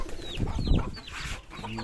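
A few chickens clucking and murmuring close by, short throaty calls over faint background noise.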